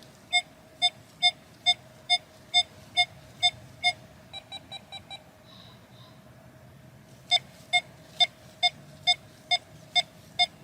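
Electronic tones from an XP Deus 2 metal detector beeping in a steady rhythm, a run of sharp regular pips, a brief cluster of softer quicker blips, then the even beeping resumes.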